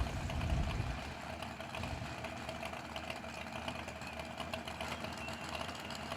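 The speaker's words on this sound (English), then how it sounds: "That supercharged powered dragster." A supercharged dragster engine idling at a drag strip, a loud rough rumble with a brief louder burst at the start, then a steady, lumpy drone, with no voices.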